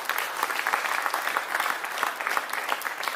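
An audience applauds a folk singer at a concert of Logudorese Sardinian guitar songs in Ozieri, a steady, moderately loud crowd clapping with no speech over it.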